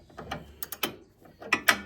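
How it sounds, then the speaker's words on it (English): A ratchet spanner turns in a series of close, sharp clicks, some quick bursts, then a pause, then a few more clicks, with no talking. "ratchet spanner"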